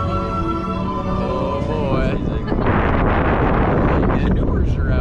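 Strong wind roars and buffets the microphone continuously at SeaWorld San Diego, loud and close, with a person talking over it at the start.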